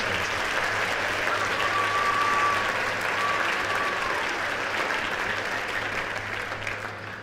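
Steady applause from a school band concert audience fills a hall, sustained and fairly even throughout, with a faint high tone running briefly beneath the clapping.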